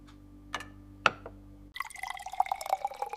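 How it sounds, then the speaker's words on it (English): Water is poured into a container. A few sharp drips and clinks come first, then a brief, bubbling, trickling pour with rising tones, close and fairly quiet. "I pour some water."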